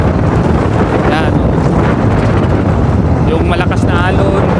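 Strong wind roars and buffets a microphone aboard a boat at sea, with rough waves crashing throughout and a voice faintly heard.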